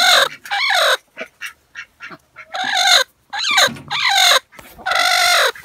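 A broody hen clucks and squawks in loud, agitated bursts, repeated calls with short gaps between them, close to the microphone and with no talking.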